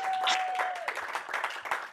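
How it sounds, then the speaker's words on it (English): Round of applause and cheering from a studio crew at a live television charity night-in broadcast, steady dense clapping throughout with a brief whistle-like tone near the start. "Let's have a big round of applause for the guys."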